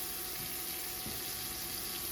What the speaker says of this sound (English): And we'll add a touch of water.